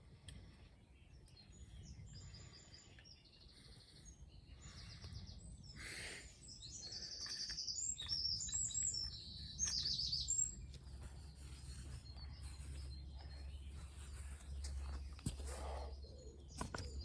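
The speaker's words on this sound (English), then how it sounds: "You can hear the birds." Birds chirp and coo beside the River Trent near Beeston lock, with scattered songbird calls and pigeon coos over a low outdoor rumble and some camp handling noise, fairly quiet and moderately distant.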